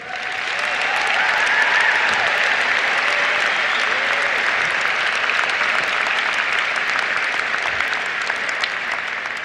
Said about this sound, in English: let's give a round of applause to the teachers who inspired you and shepherded you through your education